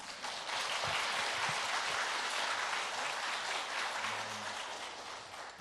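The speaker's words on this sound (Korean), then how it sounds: "목사님 환영하는 마음으로 박수하겠습니다" A Korean church congregation applauds to welcome the pastor to the pulpit at a Sunday service, a soft, distant wash of steady clapping heard at low level for several seconds.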